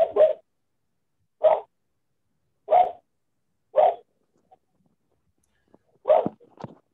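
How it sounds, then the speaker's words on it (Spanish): A small dog barks in short, evenly spaced single yaps, about five of them, fairly close and clear, with quiet gaps between and no talk. "Creo que participa más tu perrito que tú."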